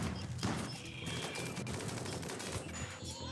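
Video game gunshots, a quick run of sharp shots fired from turrets and close by, at moderate volume, with no talk over them.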